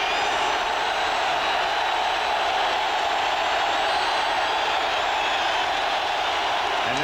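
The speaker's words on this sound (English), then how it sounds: "And the crowd reaction." A stadium crowd at a 1990 Raiders at Seahawks NFL football game roars in a continuous, loud wash of cheering and noise that holds steady throughout.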